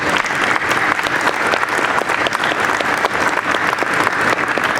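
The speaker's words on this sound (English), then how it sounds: "let's give a round of applause to Dave," Dense, sustained applause from an audience at a university court dedication ceremony, loud and continuous throughout with no break.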